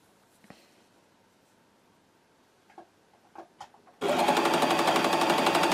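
A Janome Cover Pro 2 coverstitch machine stitches a folded hem in a loud, steady, rapid whir that starts abruptly after a few quiet handling clicks and runs to the end.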